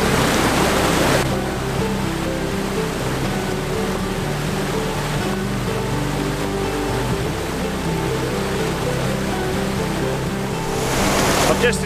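Loud, steady rushing roar of a waterfall at a gold panning spot, broadband and continuous throughout, with a brief surge of splashing water at the start and end.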